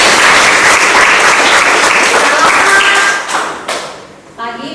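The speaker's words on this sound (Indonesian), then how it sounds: "kita tepuk tangan dulu yang mulia untuk diri kita." Students in a classroom clap their hands together in a loud burst of applause that fades out toward the end, with voices audible underneath.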